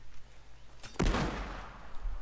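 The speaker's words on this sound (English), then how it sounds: "just melee them, and you hear small explosion" A sudden sharp blast in Battlefield 4, a small explosion from a melee-struck box followed by a flashbang, bursts out of a quiet background and leaves a decaying rumble and hiss.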